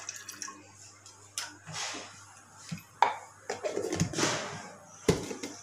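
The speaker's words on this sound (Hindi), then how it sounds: "चलिए अब हम ऑयल डालते हैं।" About 200 grams of cooking oil is poured into a pan for korma, a soft liquid trickle among scattered clinks and knocks of kitchenware, close by.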